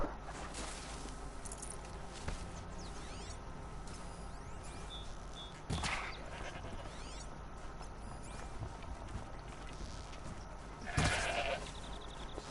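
Goat bleats in Horizon Zero Dawn during animal hunting, short cries at moderate distance over a steady game ambience of wind and mechanical hum, with a couple of louder bursts.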